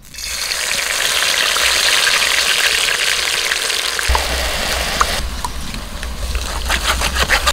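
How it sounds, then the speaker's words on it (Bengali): Mustard paste mixed with water is strained into hot mustard oil in a wok, giving a loud, steady sizzle and frying hiss that shifts to a bubbling, crackling sizzle partway through, close up and without talk. "কড়াইতে সরষের তেল দিয়ে দিয়েছি, তেলটা হালকা গরম হয়ে গেছে। এবার ওর মধ্যে আমি যে সরষেটা বেটে নিয়েছিলাম ওটা জল দিয়ে গুলে একটু ছেঁকে নিয়ে দিয়ে দিচ্ছি"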